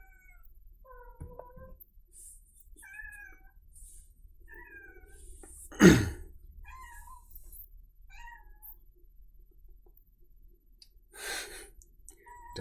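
A house cat meows repeatedly in short, separate calls, close and clear. There is one louder breathy burst partway through and another near the end, with quiet room tone between the calls.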